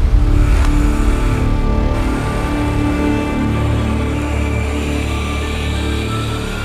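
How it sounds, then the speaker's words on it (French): Roborock S7 robot vacuum boosts suction as it reaches a carpet, giving a loud, steady motor whir and rushing airflow that holds constant throughout, with a slight drop in intensity after the first seconds. "vous allez avoir un boost d'aspiration au moment où il va arriver sur le tapis"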